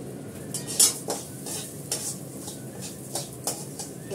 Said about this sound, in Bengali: ডালটা মুছে নিয়ে আমি এটাকে ভেজে নেব।